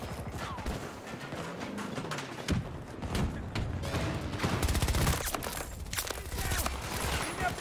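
An assault rifle fires in Battlefield 2042 in rapid, steady automatic bursts, loud and close over a constant battlefield din, with a voice speaking in between.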